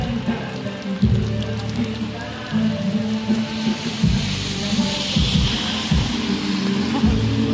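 Steady rain falls outdoors with broad hiss, joined by low rumbling thumps and bursts that suggest distant thunder or passing vehicles, continuous and moderately loud throughout.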